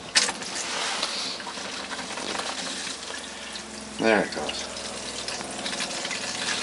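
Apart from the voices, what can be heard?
water running from a tap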